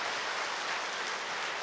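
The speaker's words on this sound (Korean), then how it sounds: "박수로다가 한번 환영해 주시죠" A church congregation applauding to welcome a visiting family after their special song at a Sunday service, a steady dense wash of clapping from many hands, fairly loud and continuous throughout.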